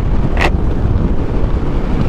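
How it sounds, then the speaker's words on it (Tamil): Strong wind roars across the microphone beside a large lake, mixed with the rush of water, loud and close, with one brief hiss partway through. "தண்ணி சத்தத்துக்கும் இதோட காற்று சத்தத்துக்கும் விளங்காது"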